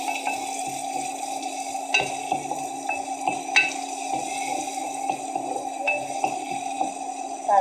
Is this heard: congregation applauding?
no